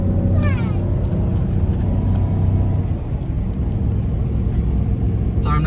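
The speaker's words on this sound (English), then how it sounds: "I'm driving. There's a trailer behind me." A car pulling a trailer on the road gives a steady, loud engine and tire rumble with a constant whir throughout, a brief rattling sweep near the start and a clank at the very end.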